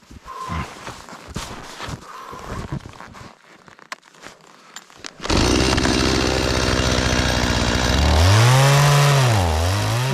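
A chainsaw cuts through a fallen, rotten aspen trunk on a taiga road, growling loudly and steadily with a revving rise and fall near the end, after rustling and handling noises at the start.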